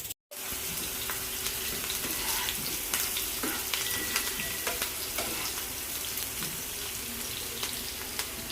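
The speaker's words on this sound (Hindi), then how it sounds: "तो अब मैं जो है ना तड़का लगा देती हूँ दाल में" Chopped onion sizzles in hot ghee for a dal tadka, a steady close frying hiss with faint clinks and crackles throughout, no voices over it.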